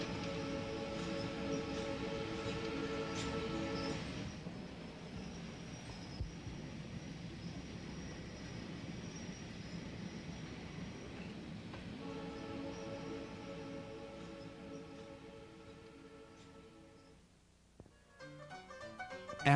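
A train travels along a steep gorge near Skagway, Alaska, its horn sounding in long steady tones over continuous rolling rumble, heard from a distance and fading toward the end.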